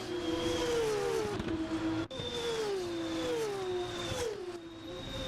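Formula 2 race cars in a sim racing game, their high engine whines rising and falling as several cars rev and shift close together, with a steady mechanical drone underneath.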